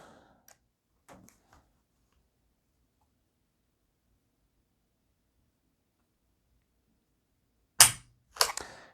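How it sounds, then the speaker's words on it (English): A Taurus G3 pistol trigger dry-fired against a Lyman trigger gauge gives a few faint clicks early on, then after long silence two sharp, loud metallic snaps close together near the end. "we're going to pull out our handy dandy Lyman trigger gauge here, and we're going to see what the stock weight of this bad boy is."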